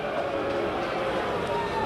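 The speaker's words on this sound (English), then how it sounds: "you can probably hear the crowd behind me" Crowd of thousands of protesters marching at a rally in Sydney, a steady dense roar of voices and chanting filling the background continuously at even loudness, with no single clear speaker.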